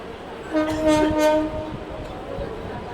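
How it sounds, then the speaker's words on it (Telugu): A train horn sounds in a couple of short blasts as the SMVT Bengaluru–Bhagalpur train passes near Visakhapatnam, its rumble moderately distant, with faint voices in the background. "ఇంతక SMVT బెంగళూరు భాగల్పుర ట్రైన్ వెనక ఇంకొక ట్రైన్ ఉంది"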